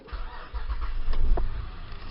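A 2004 Acura MDX V6 with misfiring cylinders cranks and catches, a brief close-up engine start that rises into a rough, uneven idle.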